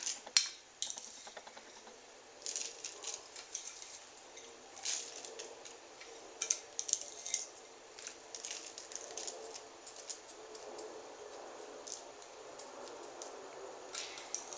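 Breadcrumbs spooned onto trays of gluten-free mac and cheese make soft scattered clinks and light scrapes of utensils against dishes, close and fairly quiet, with no voices.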